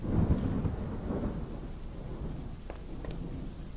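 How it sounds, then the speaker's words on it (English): Heavy rain in the video game Home pours steadily while a deep rumble of thunder rolls at the start and fades, with a few faint crackles later. "The rain gave me a terrible sense of foreboding, and it chilled me through my clothes"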